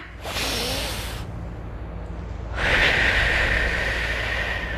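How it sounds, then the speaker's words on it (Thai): Two long, breathy exhalations during a guided meditation breathing exercise, following a teacher's lead: a soft rushing breath, a pause of quieter air, then a louder, sustained second breath, close and steady. "หายใจตามครูนะ"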